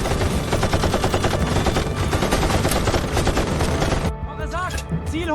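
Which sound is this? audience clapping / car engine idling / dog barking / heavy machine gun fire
heavy machine gun fire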